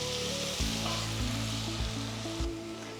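Chopped tomatoes dropped into softened onions in a hot pan, a loud steady sizzle and frying crackle with stirring scrapes, close and continuous with no voices.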